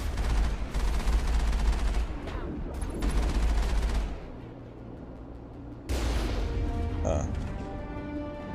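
Gunfire in the video game Mass Effect, including sniper and pirate fire, comes as loud overlapping bursts of shots and booms in two heavy stretches separated by a calmer gap, with game dialogue audible alongside.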